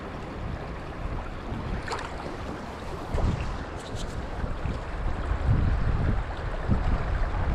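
Spring wind blows across a river during sweetfish fishing, giving steady rumbling gusts and buffeting against the microphone, with a few faint higher clicks and no speech.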